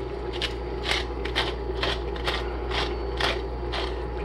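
A pepper mill twisted over creamy white wine and mushroom chicken sauce, producing about nine short crunchy grinding bursts in an uneven rhythm, close up over a constant low background hum.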